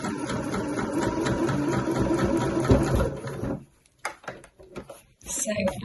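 A sewing machine topstitches around the top edge of a kid's tote bag at a longer stitch length, its motor whirring steadily and close for about three and a half seconds before stopping, followed by a few light handling clicks.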